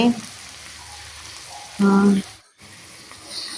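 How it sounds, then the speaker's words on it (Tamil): Chopped tomatoes fry in a pan for a Tamil fish curry, a steady close sizzle with a brief louder tonal burst and a short break near the end. "நல்லா மிக்ஸ் பண்ணுங்க. நல்லா ஃப்ரை ஆகுற மாதிரி."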